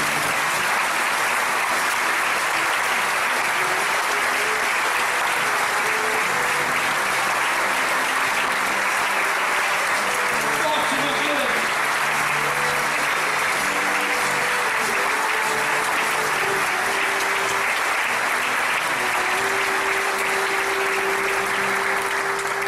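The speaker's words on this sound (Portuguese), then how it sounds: "pedir que vocês aplaudissem demoradamente ao Senhor" A congregation applauds at length during a communion service in church, dense sustained clapping from many hands that holds steady throughout, with faint music or voices beneath.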